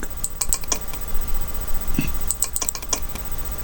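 Crisp clicks from a computer mouse or keyboard come in quick little clusters near the start and again toward the end, close and distinct over faint room hum.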